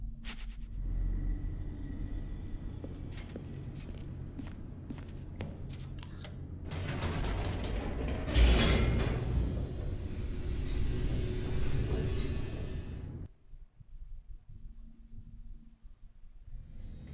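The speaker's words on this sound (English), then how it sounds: "The elevator raced downward," An elevator descends in The Stanley Parable Ultra Deluxe, a low, steady mechanical rumble with a few clicks and a swelling whoosh that runs for several seconds before cutting off abruptly into quiet.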